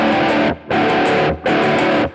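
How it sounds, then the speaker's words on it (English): Heavily distorted electric guitar in a dense metal mix, loud sustained chords in three long bursts with brief drops between them. "It's very heavily distorted guitar, but it's also to do with a mix."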